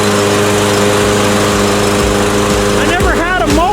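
A Yard Force 22-inch lawn mower engine runs loud and steady close by in a front yard, with a constant droning hum and some pitch wavering near the end.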